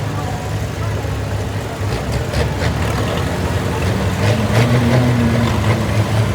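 A rare US-built Top Cut 50 tractor rolls by in a steam and gas show parade, its engine a steady, close, low rumble that runs throughout with a slight rise near the end.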